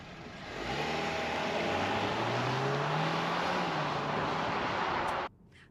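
A 2024 BMW X2 or Cadillac XT4 in sport mode accelerates off the line, its engine note climbing steadily in pitch with a loud, sustained roar that cuts off abruptly near the end.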